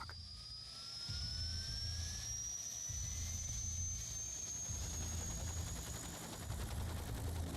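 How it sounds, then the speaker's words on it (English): German Army helicopter turbines spool up in high mountain terrain with a rising high-pitched whine over a deep rumbling roar that grows and holds steady, loud and continuous. "The pilots start the turbines and go through their checklists."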